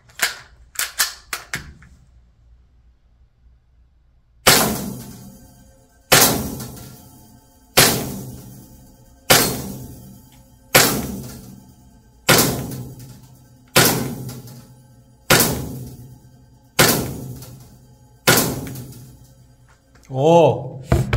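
Test shots striking an LCT full-metal steel target box at a shooting range: ten sharp, evenly spaced metallic impacts about every one and a half seconds, each ringing off briefly, loud and close, after a few faint clicks at the start.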